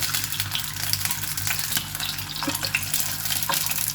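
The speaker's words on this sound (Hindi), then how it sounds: "हल्के से आयल में मैं इनको फ्राई करूंगी।" Eggs fry in a little oil in a pan with a dense, steady crackling sizzle that stays loud and close throughout, without any speech.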